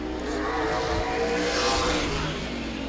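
A race car accelerates hard out of turn 4 on a qualifying lap. Its engine drones loudly and steadily, and the pitch climbs slightly as the car pulls away.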